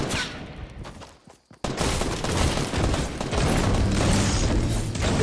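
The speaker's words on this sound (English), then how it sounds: "This teammate's shooting me." A teammate fires rapid gunfire in Fortnite, with loud, dense bursts of shots. A brief quiet gap comes before a sustained, unbroken barrage that runs to the end.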